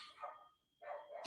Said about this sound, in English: That damn dog, I should go feed his ass